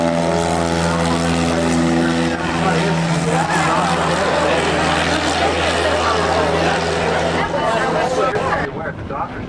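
A small propeller airplane taking off from a runway beside a river, a steady buzzing engine drone building into a rougher roar, loud and continuous, with someone talking over it.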